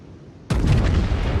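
A large-calibre ship turret gun fires in a naval video game, a single sudden heavy boom that cuts in loud and close, followed by a dense, rumbling roar that sustains to the end.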